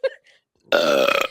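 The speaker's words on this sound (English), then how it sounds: "Oh my gosh, I had to burp." A single loud, close burp from a wrestler, drawn out for about half a second with a rough, voiced rumble, after a moment of silence that follows a brief mumble.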